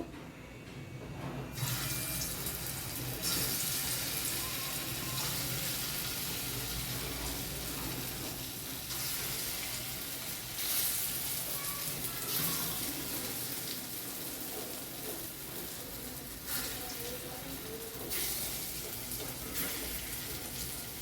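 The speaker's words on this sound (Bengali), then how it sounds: "এবার বড়াটা ভেজে নেব। এটা রিফাইন তেল দিয়েও ভাজা যেতে পারে, সর্ষের তেলেই দিলাম" Small lentil fritters fry in mustard oil for a cucumber shukto, producing a dense, steady bubbling sizzle close by that holds throughout with brief louder surges.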